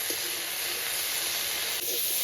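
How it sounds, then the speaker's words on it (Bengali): Flat beans and potato frying in hot oil with green chilli, turmeric and salt, giving a loud, steady, close sizzle that holds for the whole stretch with only a slight dip near the end. "সিম আর আলুটা খুব ভালো করে একটু ভেজে নেব।"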